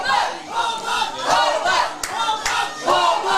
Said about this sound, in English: United crowd trying to lift here